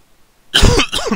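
A sudden burst of harsh coughing after a stretch of silence, close and loud, a few rough hacks running together.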